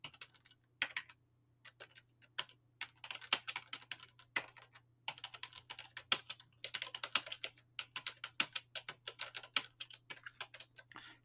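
Someone types a text prompt on a computer keyboard to generate AI art in Midjourney. Bursts of quick, close key clicks pause briefly, then continue over a faint steady hum.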